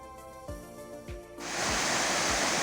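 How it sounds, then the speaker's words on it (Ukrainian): A few faint knocks give way to a broad, steady roar of rushing, falling water from the Zhurynskyi waterfall in western Ukraine, filling the rest of the clip. "Журинський водоспад."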